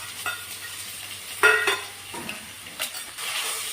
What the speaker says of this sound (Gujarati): આપણે રાઈનો નાખી દીધો વઘાર એટલી વારમાં નાખી દીધું જીરું નવજીવન હિંગની અડધી ચમચી નાખી દે એટલે સ્વાદ ડુંગળી નાખી દીધી